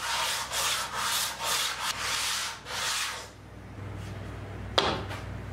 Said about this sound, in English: I had to sand them a bit more to reduce their thickness.